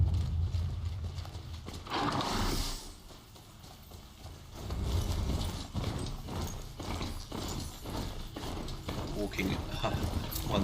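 A summoned machine mount from Horizon Zero Dawn gallops with a steady clip-clop of hooves mixed with mechanical gear whirs and ratcheting clicks, heard under ongoing game talk.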